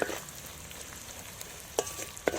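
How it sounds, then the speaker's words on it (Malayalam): Ginger, garlic, green chilli and curry leaves frying in rendered pork fat for a Kerala pork roast, a close hiss with a few sharp stirring clinks near the end. "ഇഞ്ചിയും വെളുത്തുള്ളിയും പച്ചമുളകും കറിവേപ്പിലും എല്ലാം കൂടി ആ പോർക്കിൻ്റെ നെയ്യിൽ കിടന്ന് ഫ്രൈ ആവുന്ന"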